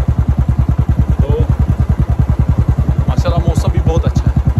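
A Royal Enfield motorcycle engine thumps in a fast, even single-cylinder beat while riding on a road, loud and close, with a voice speaking briefly over it near the end.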